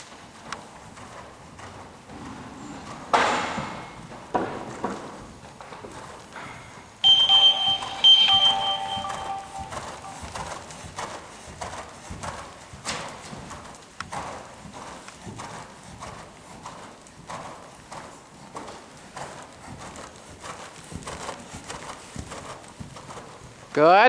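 Hooves of a horse cantering through a dressage half pass, rhythmic clip-clop beats under a trainer's intermittent spoken praise, with a brief beeping tone partway through.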